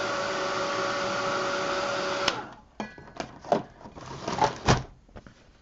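A heat tool drying a painted metal tray lid, a steady whirring blow for a couple of seconds that cuts off, followed by scattered clicks and knocks of handling.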